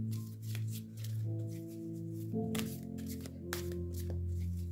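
Oracle cards being shuffled by hand in a quiet room, a steady soft riffling and sliding that runs through the whole stretch, close and fairly faint.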